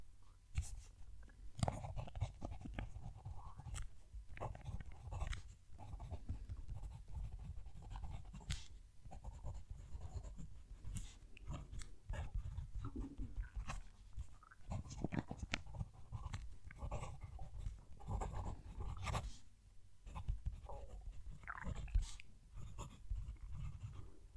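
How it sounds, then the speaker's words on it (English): Platinum Preppy fountain pen nib scratching and whispering across paper, recorded close with the mic near the page, a steady soft scraping with irregular strokes and small taps throughout. "I'll move the mic down to the page so you can hear that pen writing"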